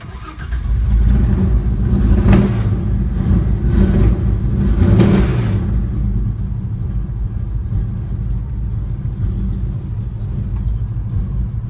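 A Holden Kingswood car engine cranks on the starter and catches, revving loudly for several seconds before settling into a steady close idle rumble, with no talking.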